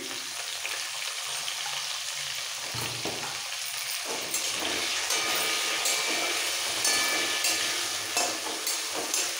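Potatoes fry in hot oil with a loud, continuous crackling sizzle that holds steady throughout, broken by occasional stirring.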